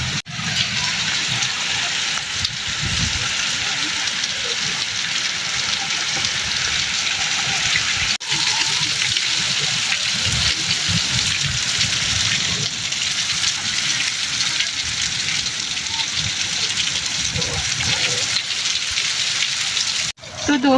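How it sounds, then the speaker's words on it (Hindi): Dense, continuous hiss of heavy rain with hail pounding a surface close by in a village, with faint low murmurs underneath and a couple of brief dropouts. "यहाँ पे काफी ज्यादा तेजी से बारिश आ रही है"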